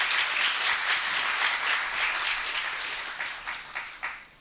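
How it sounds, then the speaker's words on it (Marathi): Loud, dense clapping from an audience at a Marathi literary and music event, a continuous roar of applause that thins toward the end into a few scattered, sharper claps. "जोरदार टाळ्या होऊन जाऊ देत"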